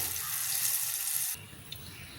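Snacks deep-fry in hot oil with a loud, steady, hissing sizzle that suddenly drops to a softer, quieter bubbling partway through.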